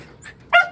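A dog gives one short, sharp bark, preceded by a faint soft yelp, heard nearby and outdoors in the Philippines with no voices.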